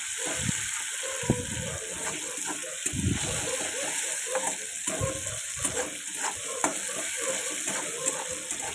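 Tomato and onion fry in a pan with a continuous crackling sizzle, broken by repeated scraping and stirring knocks from a utensil at an uneven rhythm, close and fairly loud.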